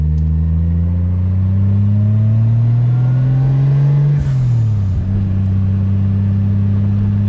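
A Toyota Supra's inline six revs up steadily, drops back sharply, then settles into a loud, close, continuous drone with no talking.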